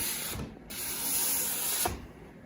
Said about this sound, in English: take the sanding block, make sure it's flat, and move it back and forth.